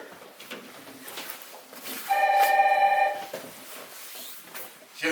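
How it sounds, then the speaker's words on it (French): A telephone rings in a busy office with a person working alone, a bright electronic ring rising above background murmur and room noise for about a second before fading back into the clutter. "En plus, il y a le téléphone qui sonne, je suis tout seul."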